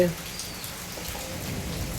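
Heavy rain pours down around an ashram in a constant, fairly soft hiss of drops with no pauses.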